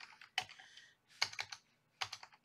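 Close, quiet typing on a computer keyboard while entering text in Cricut Design Space, three short clusters of rapid keystrokes separated by brief pauses.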